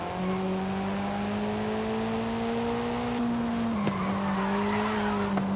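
A car in Forza Horizon 5, a light build under 350 horsepower, launches hard with a steady high tire squeal over a rising engine whine, loud and close with no talk.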